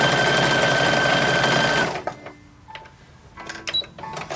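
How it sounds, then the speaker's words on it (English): A sewing machine hums along at a steady speed, closing a cut slit in a fabric panel for an 1880s-style infant's dress. It stops after about two seconds, leaving quiet clicks and fabric handling. "I am sewing up a slit, where I cut a slit in the back, and I'm just sewing that up"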